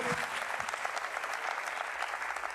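A church congregation claps together in sustained, fairly soft applause with no voices standing out.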